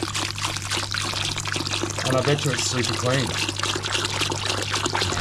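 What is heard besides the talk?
RO water poured to rinse aquarium sand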